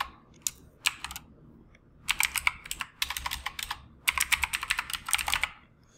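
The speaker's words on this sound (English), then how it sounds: "Now you have to simply go ahead type noemail@yahoo.com." Fast typing on a computer keyboard while entering an email address during Windows 11 setup, with bursts of close, crisp key clicks separated by brief pauses and no talking.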